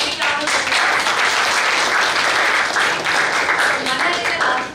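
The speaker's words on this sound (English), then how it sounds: "Big round of applause" Audience at a youth entrepreneurship investor panel in Bangalore breaks into loud, dense applause that stays full and even throughout.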